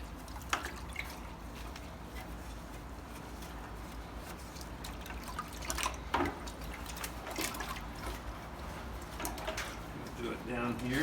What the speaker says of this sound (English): Slop some water up in each end, and on the sides of it.